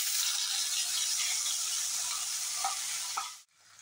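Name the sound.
spice paste sizzling as it is added to hot oil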